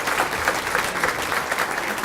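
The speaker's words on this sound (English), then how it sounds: "How about a round of applause?" Steady applause from an audience at an Illinois political event, dense and continuous for about two seconds, with faint crowd murmur mixed in.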